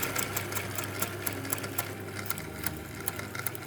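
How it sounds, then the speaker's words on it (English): A sewing machine stitches through a layer of velvet cotton and a layer of canvas for a corset, running in a steady rapid needle rhythm with light repeated clicks over a low motor whir, close and fairly quiet. "I am also going to be sewing around the tabs so that they are marked from the front."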